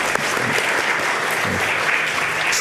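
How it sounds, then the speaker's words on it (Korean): Church congregation clapping to welcome visiting students, even and sustained applause filling the hall at moderate loudness throughout. "우리 박수하겠습니다."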